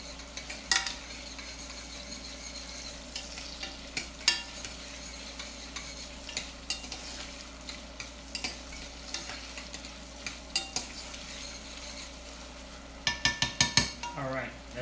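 Onions softening in oil in a pot for tomato sauce under a soft continuous sizzle, with a spoon repeatedly scraping and clinking against the pan and a quick burst of stirring near the end, up close with no talking.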